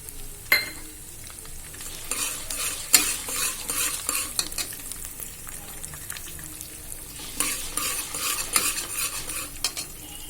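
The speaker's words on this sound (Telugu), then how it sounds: "ఇప్పుడు కందిపప్పు ఇవి పోపు మంచిగా వేగిపోయినాయి. ఇప్పుడు ఇందులో కొన్ని ధనియాలు వేసేద్దాము." Toor dal tempering frying in a pan with coriander seeds, stirred: a continuous sizzle under repeated scraping and clinking strokes of a spoon against the pan, close and fairly loud, with no voices.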